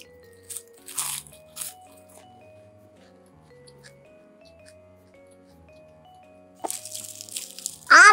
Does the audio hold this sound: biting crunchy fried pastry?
yes